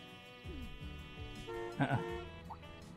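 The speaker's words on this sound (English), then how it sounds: "Who honked their horn in the middle of the night?" A car horn in the video game The Legend of Heroes: Trails Through Daybreak sounds in a couple of honks at night amid low engine hum and faint background voices, moderately distant.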